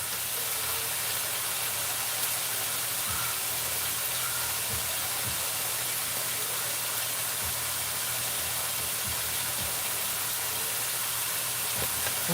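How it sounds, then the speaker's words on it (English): Meat sizzles in a pan while chili is being cooked, a steady broadband hiss with a low hum running beneath it and a few faint clicks and pops, continuous and fairly even throughout. "That's why my meat is cooking."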